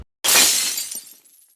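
Glass shatters in a single loud crash that trails off into scattered tinkling fragments over about a second, heard alone with no voices.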